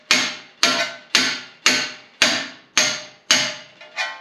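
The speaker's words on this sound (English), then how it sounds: "get these off is just being able to take a hammer and just tapping it" A hammer taps on a Jeep JK steering part to knock it loose, seven sharp, evenly spaced metallic strikes about half a second apart, each ringing briefly before the next, close and loud with no voices.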